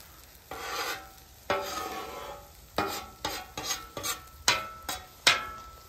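A utensil stirs and pulls scrambled eggs around a hot pan in repeated scraping strokes, each stroke with a soft sizzle, close and clear with no talking.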